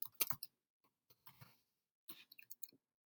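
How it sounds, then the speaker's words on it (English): A computer keyboard being typed on: a few short clusters of soft, close clicks separated by silent gaps, quiet and isolated with no talking. "I'm going to type my name"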